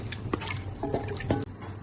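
Water boils in a pot for seeraga samba chicken biryani, with soft bubbling pops and wet gurgles in quick, uneven succession at close range.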